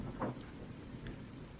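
Steady rain falls outside during a thunderstorm, a dense continuous wash of drops with a low rumble of thunder rolling underneath, heard at moderate distance throughout without any talking.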